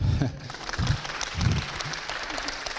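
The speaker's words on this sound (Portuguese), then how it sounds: "Ok, você aplaudiu" Audience applause at a church talk, a soft wash of clapping heard at a moderate distance, mixed with low murmuring voices for a few seconds.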